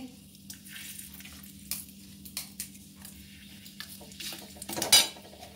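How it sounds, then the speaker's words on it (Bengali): Bay leaf, cinnamon, cardamom and cloves frying in mustard oil, a soft sizzle under scattered clinks of a utensil against the pot, ending in a louder scrape and clatter. "আমি ওই তেলে এবার তেজপাতা, দারচিনি, এলাচ, লবঙ্গ একসাথে ছেড়ে দিচ্ছি"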